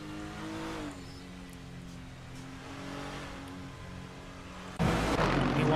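GT3 race cars in a sim racing game battling into turn 1, a steady engine drone with shifting pitch, then a sudden louder burst of engine roar near the end, with no talk heard.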